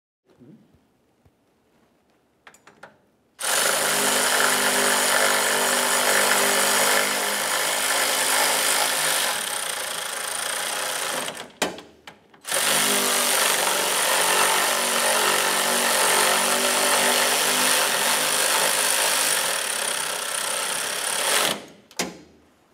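New nuts on the impact airbag sensor of a 2004-2015 Nissan Titan being run down tight: two long, loud, steady mechanical whirs of several seconds each, separated by a short pause, with faint clicks before and after.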